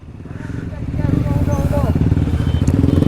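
A 125cc motorcycle engine idles and revs close by with a rapid, throbbing putter that grows louder, while someone talks over it.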